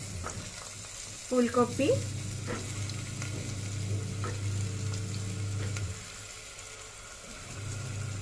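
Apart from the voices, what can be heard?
potato, cauliflower and carrot frying in oil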